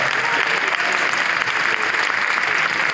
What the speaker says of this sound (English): Shall we give a round of applause, ladies and gentlemen?